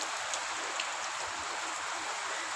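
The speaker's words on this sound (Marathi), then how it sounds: "अतिशय चांगल्या प्रमाणामध्ये पावसाला सुरुवात झालेली आहे" Steady rain hisses down in a dense, even wash of noise with no pauses, fairly close and unbroken by voices.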